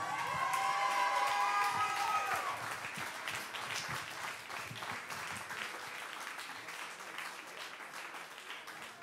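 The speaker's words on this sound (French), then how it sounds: "s'il vous plaît, sous vos applaudissements" A live concert audience in Paris applauds a lyricist: the tail of the music fades in the first couple of seconds, then dense, sustained crowd clapping carries on steadily to the end.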